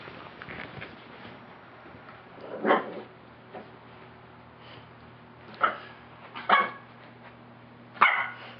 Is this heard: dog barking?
yes